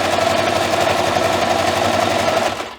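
Sewing machine running a continuous stitching burst on a quilted hot pad corner, a loud steady mechanical whir with rapid needle rhythm that winds down at the end.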